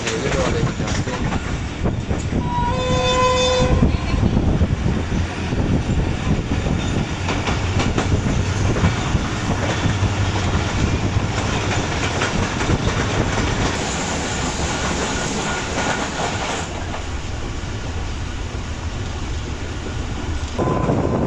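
The Shalimar Express runs on its rails, a loud, continuous rumble with rhythmic wheel clatter and a brief high squeal or horn-like tone early on, heard up close with no talking.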